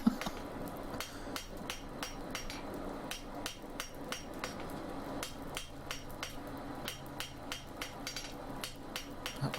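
Rapid, steady hammer blows ring out on hot metal being forged into simple window stays, a dense run of sharp metallic strikes close up with a brief lull partway through.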